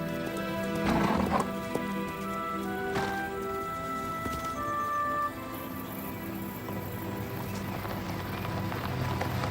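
A horse's hooves clip-clop on the ground as it neighs loudly up close, followed by steady hoofbeats with a faint rain-like patter in the background.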